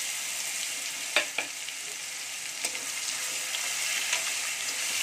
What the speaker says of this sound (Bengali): থেতো করে নেওয়া রসুনটা দিয়ে দেব।